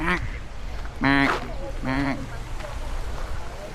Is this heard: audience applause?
no